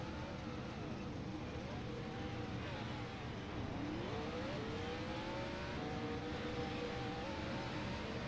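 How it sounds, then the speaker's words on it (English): A race car in a racing video game set at Iowa does burnouts, engine revving and wavering in pitch at moderate level, with a game commentator's voice running faintly beneath. "He's going to continue to do some more burnouts."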